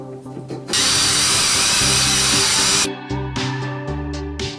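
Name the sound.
drilling holes into Porsche 914 door channel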